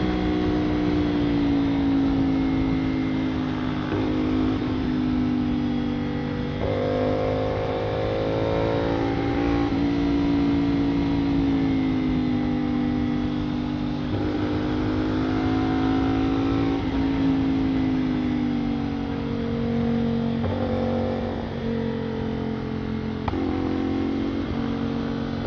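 A motorcycle on CST Migra S3 tires rides along a wet road, its engine droning steadily up close with rising and falling pitch as the rider shifts and throttles, accompanied by constant wind and road noise.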